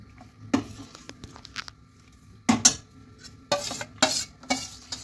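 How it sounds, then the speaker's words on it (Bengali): A spoon stirs milk in a pot for chhana payesh, giving intermittent scraping and clinking strokes against the metal with quiet gaps between them. "এইভাবে নাড়তে থাকতে হবে সমানে দুধটাকে"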